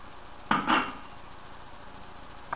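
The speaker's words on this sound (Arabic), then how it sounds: "نخلط معجون الأسنان مع قلت عصير الليمون" Spoon clinking and scraping in a small bowl while stirring toothpaste with lemon juice, two quick close knocks followed by quiet, and another faint tap at the end.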